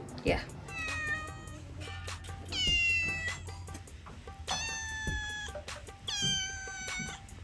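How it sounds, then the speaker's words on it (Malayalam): A cat meows loudly several times in drawn-out, whiny cries, close by, with a person talking in between. "ഹിബന്റെ പൂച്ച നല്ല കരിശീലായിട്ടോ"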